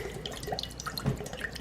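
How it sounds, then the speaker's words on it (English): Water being strained for Belizean coconut tarts, a short burst of splashing and trickling with scattered drips, close and moderately loud. "We're gonna go ahead and strain this water"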